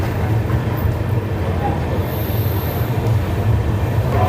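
The Guwahati–Sairang Express pulls out, giving a steady, loud rumble of rolling carriages and rattling wheels that continues without a break.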